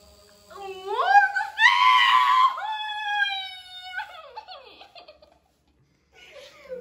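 A woman screams loudly and shrilly while getting a tattoo, in rising, wavering cries lasting a few seconds that fade into quieter whimpering sounds before going briefly silent.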